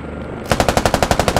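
Automatic rifle fire in the military shooter game Squad on the tropical Sanxian Island map: a rapid, evenly spaced burst of about a dozen loud, close shots starting after a brief quiet lead-in.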